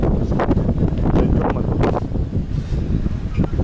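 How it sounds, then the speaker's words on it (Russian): Strong gusty wind batters a tent at night in Alanya, a steady roaring rush with buffeting surges and rustling flaps, loud and close to the microphone, with no talk over it. "Палатки рушатся, ветер, такие порывы"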